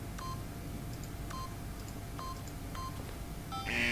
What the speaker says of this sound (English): by simply pushing random buttons on the keypad, Stanley happened to input the correct code by sheer luck